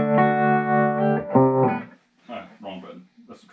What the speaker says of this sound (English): Wrong button. That's the tremolo.